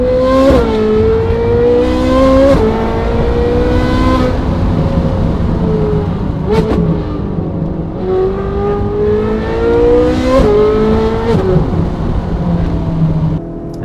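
A straight-piped Ferrari 458 V8 revs hard through several rising pulls, each climbing to a sharp peak before dropping, loud and raw with crackling gaps between the bursts.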